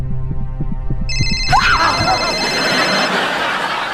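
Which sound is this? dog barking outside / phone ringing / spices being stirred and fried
phone ringing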